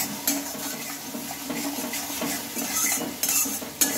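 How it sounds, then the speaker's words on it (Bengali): A ground spice paste of cumin, ginger, poppy seed and coriander fries in a pan with a soft sizzle. A spoon scrapes and clinks against the pan in repeated stirring strokes. "মশলাটা আমি ভালোভাবে কষিয়ে নিচ্ছি"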